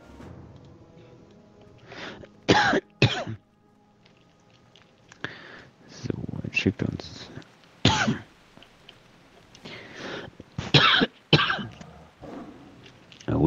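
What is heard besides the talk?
coughing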